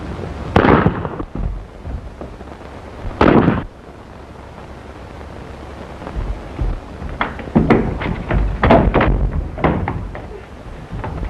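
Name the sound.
gunshots in a 1932 film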